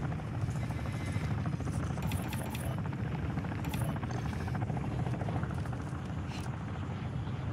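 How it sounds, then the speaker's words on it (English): An enemy attack helicopter approaches in Call of Duty with a continuous rotor thump and whine. The sound is steady and fairly faint throughout, with no talk over it. "the enemy attack helo is moving in your direction"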